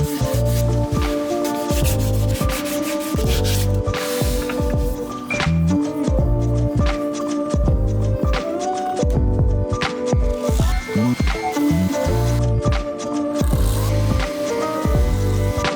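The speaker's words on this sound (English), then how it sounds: "now I can get in there with the power sander" A power sander grinds across a solid oak pedestal, a loud continuous buzzing rub with a shifting pitch as the pad moves over the wood, close and unbroken throughout.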